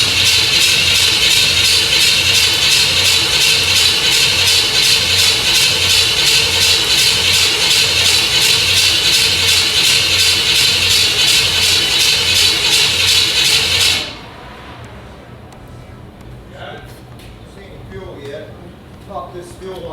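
Engine of a 1950 Chevy on an S10 frame cranking with a loud rhythmic starter churn for about fourteen seconds, then cutting off to quiet with faint clicks; no one speaks while it turns over.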